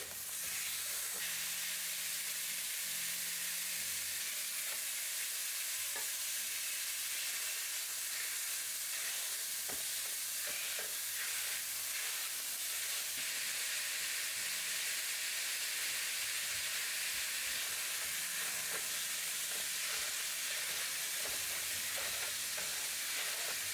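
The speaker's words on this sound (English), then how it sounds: "In a deep skillet on medium-high, add your ground beef and mash it up so it breaks apart." Ground beef frying in a deep skillet on medium-high heat while being mashed apart, a continuous bright sizzle and hiss with occasional scraping and stirring clicks, close and steady with no voices.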